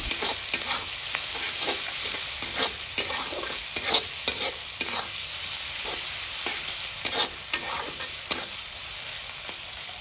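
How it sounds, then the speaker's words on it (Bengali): Onions and green chilies fry in a pan while being stirred for a village-style fish curry, giving a steady sizzle broken by repeated scraping strokes of the spatula, close and clear with no talk. "নেড়ে চেড়ে পেঁয়াজ ও মরিচ একটু ভেজে নিতে হবে।"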